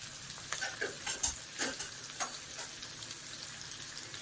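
Garlic sautéed in hot oil for a tempering, a soft crackling sizzle with a few light stirring scrapes and clicks scattered through, fairly quiet and close.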